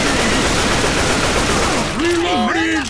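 A loud, sustained volley of massed gunfire in the video game Left 4 Dead 2, dense and continuous, with a voice shouting over the end of the burst.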